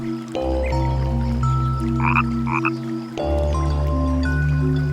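Frogs croak close by in a wild wetland: two long, loud, droning croaking bouts separated by a short pause, with a few higher chirping calls in between.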